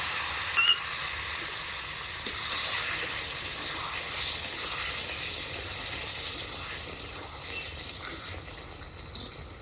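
Hot water poured into mutton curry frying in a pan with tomato, onion, garlic and green chilli gives a steady, close hiss and sizzle that holds evenly throughout with no talk.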